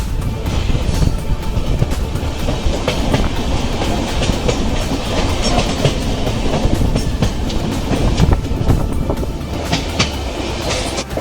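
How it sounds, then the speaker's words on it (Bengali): A train runs from Haridwar to Dehradun through forest, heard from aboard as a loud, continuous rumble with rhythmic clickety-clack of wheels on rail joints. "পাহাড়ের মধ্যে দিয়ে ট্রেনটা যাবে।"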